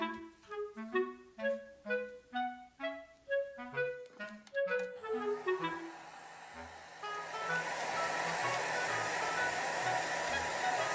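A hair dryer blows steadily on a small doll's wavy synthetic hair, starting partway through after a melodic tune and then running as a loud, continuous close whoosh with no talking.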